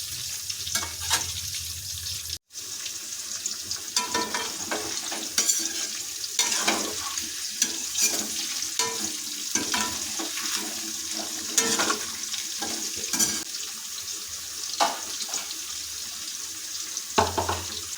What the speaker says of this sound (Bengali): এঁচড়গুলো যোগ করে দিচ্ছি এগুলোকে আমরা ভালোভাবে ভাজা করে নেবো